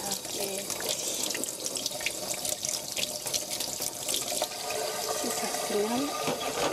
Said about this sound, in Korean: 이렇게 물을 흐르는 물에 두부를 깨끗이 씻어주세요.